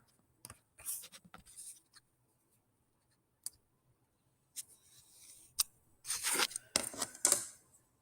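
Pen or marker scratching and clicking in bursts while a line is drawn on a scatter plot worksheet, close and fairly quiet, with gaps of silence between strokes and no voices.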